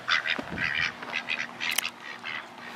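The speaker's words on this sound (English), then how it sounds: "Ducky, duckies." Ducks quacking repeatedly in a loose, busy chorus at close range, with overlapping calls and short pauses between bursts.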